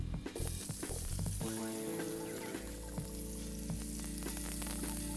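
Steady crackling sizzle of finely chopped onion frying in hot fat in a pot, with a few soft clinks and stirring sounds over the constant hiss.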